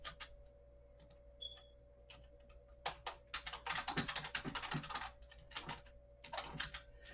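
Fingers typing on a computer keyboard, close and quiet clicking that comes in bursts of rapid keystrokes with short pauses between, alone over a faint steady hum.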